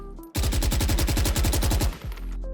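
A Phantom rifle in Valorant fires a long full-auto spray at a practice dummy, a rapid even burst of loud, punchy shots lasting about a second and a half before cutting off.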